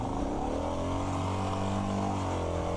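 A dirt bike engine revs steadily in a strained, continuous drone as the rider slips the clutch creeping slowly down a steep rocky back side of Rocky Gap Road, loud and close with no voices.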